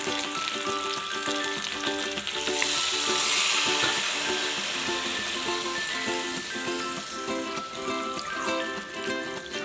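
Coconut milk poured into a simmering pot of caldereta with fresh river ingredients, giving a steady bubbling sizzle that swells briefly then settles into a constant low simmer, close and unbroken, without talk.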